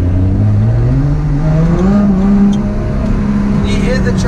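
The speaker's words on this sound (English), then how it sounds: "Can you hear the traction control systems doing their thing?" A Lotus sports car accelerates hard as its traction control intervenes, the engine note climbing in wavering, stuttering steps up close, with a person talking over it.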